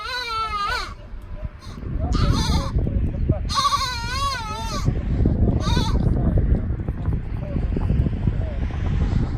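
Goats bleat loudly several times in wavering calls over the first five seconds, then a steady rumbling background noise continues.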